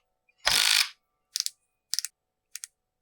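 A Snap-on ratchet wrench backs a very tight screw out of a Stihl MS311 chainsaw: one longer grinding ratchet sweep, then three short double-click bursts, close and clean in silence.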